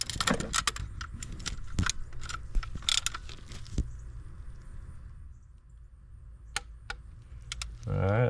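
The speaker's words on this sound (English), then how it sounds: "here we're gonna do the torque sequence, which is gonna be 106 inch-pounds" Torque wrench clicking as it tightens the oil filter housing bolts on a 2012 Chrysler 300 with the 3.6L V6 Pentastar, sharp metallic clicks and ratchet clatter close up in a quiet garage, with a talking voice.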